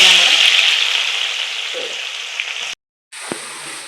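Onions sizzle in coconut oil in a pan, a loud close bright hiss that fades slightly, breaks off briefly, then resumes with a small clink.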